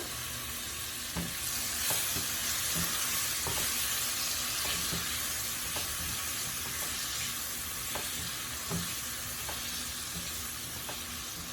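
Tomato tossed into garlic frying in a pan for hot and sour chicken soup, producing a soft, steady sizzle punctuated by regular light taps of a spoon against the pan.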